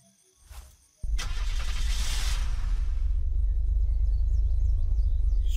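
A car engine in the Unturned video game cranks and starts with a sudden whoosh, then settles into a loud, steady idle rumble with no talk.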